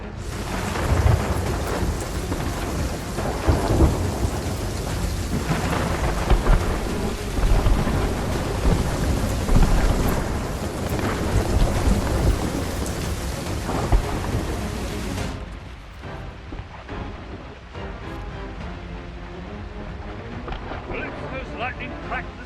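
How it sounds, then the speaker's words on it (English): Heavy rain and rolling thunder in Sea of Thieves as lightning strikes a spire, a loud continuous storm roar that abruptly drops away to quieter ambience with faint spoken voices near the end. "Calypso's lightning cracked the spire."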